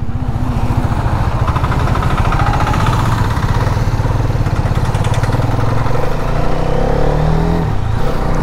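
Motorcycle being ridden, a continuous loud engine drone with steady throttle and a slight rise near the end, heard close with wind noise and no talking.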